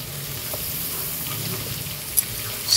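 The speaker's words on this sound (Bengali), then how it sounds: "স্কোয়াশটা আমি মিনিট 5 ভালো করে নাড়াচাড়া করে ভেজে নেব" Squash pieces stir-fried in a pan, a steady soft sizzle with a couple of faint stirring knocks near the end.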